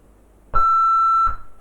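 An answering machine plays a single clear, steady electronic beep lasting under a second before a message starts, with a click at each end and no talking.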